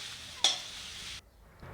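Dried fish (chapa shutki) frying in a pan for a breakfast bhorta, a steady hiss of sizzling with a sharp stir or scrape partway, then the sizzle cuts off and falls quiet, with a faint knock at the end.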